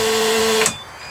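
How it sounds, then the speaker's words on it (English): A steady electronic buzzer tone from an emergency exit drones loudly, then cuts off abruptly with a click, leaving quiet room noise. "Buzzer's going to sound. Buzzer sounds."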